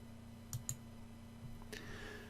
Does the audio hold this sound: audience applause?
no